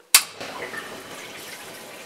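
An electric water pump in a Renault 5 Maxi replica starts with a sharp click, then water circulates with a steady, soft rushing and gurgling that slowly fades.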